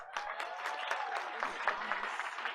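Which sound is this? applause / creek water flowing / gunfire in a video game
applause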